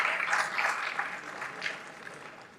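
Audience applause at an event on India's startup growth, a fairly faint, steady patter of clapping with no voices over it.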